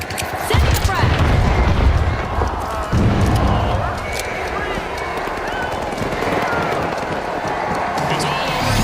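A frag grenade from the shooter game The Finals goes off loudly amid rapid gunfire and crowd-like game noise, with a voice talking over the mix.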